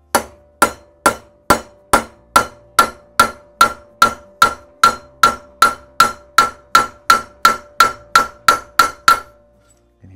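Steady metallic hammer taps on a drift fitting a valve guide into a Classic Mini cylinder head, about twenty evenly spaced ringing strikes, close and loud, then silence at the end.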